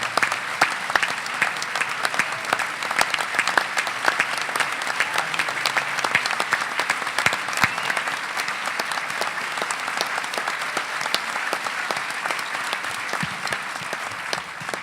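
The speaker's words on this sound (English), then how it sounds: "he deserves a tremendous round of applause for what he has done" Sustained audience applause at a swearing-in ceremony, dense and steady throughout with many hands clapping at once, fairly loud and unbroken from start to finish, with no one talking over it.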